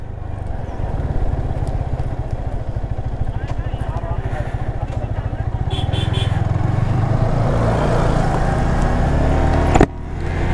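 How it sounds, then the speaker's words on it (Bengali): Motorcycles and other local vehicles on a rural road near Rajasthali, with a steady engine drone and clatter close by that builds slightly louder, plus a brief sharp knock near the end. "এখানে লোকাল বাইক চলে,"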